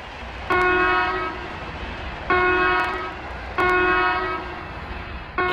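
An Indian railway train horn sounds in short, loud harmonic blasts separated by pauses, close and clear over low background rumble.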